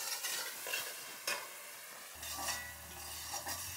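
Chopped tomatoes frying with spices in a pan for a chicken kosha biryani masala, stirred with a spatula. Steady close sizzle with repeated scraping strokes throughout, and a low hum joins partway through. No talking.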